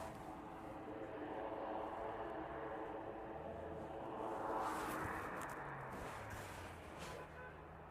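An aircraft on final approach into East Midlands descends through cloud, a faint distant engine rumble that swells slightly midway, with a voice talking over it.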